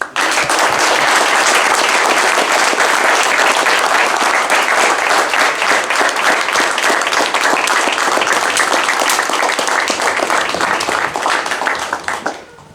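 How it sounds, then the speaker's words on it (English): A crowd at an Eagle Scout Court of Honor gives a sustained round of applause, dense and loud for about twelve seconds before tapering off at the end. "Let's give our new Eagle Scout one more round of applause."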